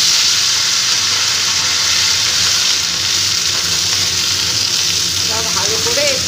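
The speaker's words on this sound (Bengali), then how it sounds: "ভালো করে একটু সবজিগুলো ভেজে নেব তেলের মধ্যে" Sliced potato, pumpkin, ridge gourd and eggplant fry together in hot oil, giving a steady, dense sizzle that holds at the same level throughout, with faint clinks near the end.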